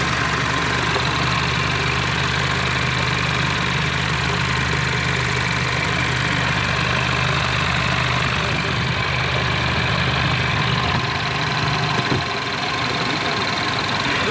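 A Chevrolet Alpheon engine idles steadily and loudly, with a constant low rumble and knock that holds without a break.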